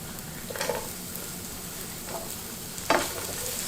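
Onion and garlic frying in a tablespoon of oil in a pan for a cottage pie, giving a steady soft sizzle with a couple of louder bursts as the pan is stirred.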